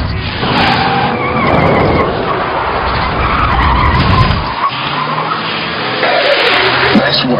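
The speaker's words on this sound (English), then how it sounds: "Watch out! Hit the brakes!" A 2013 Toyota Avalon brakes hard during a chase, its tires squealing and skidding loudly for several seconds amid engine roar before the screech cuts off and the car rolls on.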